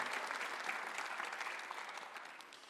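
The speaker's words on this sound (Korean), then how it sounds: "박수하세요." A church congregation claps steadily and continuously during a Sunday worship service, a dense wash of applause filling the room at moderate distance with no voices.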